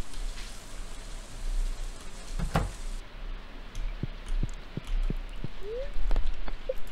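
Steady rain in the farming video game Stardew Valley, a soft continuous patter with a few sharp ticks and clicks from the game on top.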